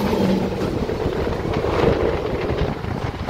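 Another train passing alongside on the Secunderabad–Warangal line, a steady windy rushing rumble heard from inside a moving carriage, loud and continuous throughout.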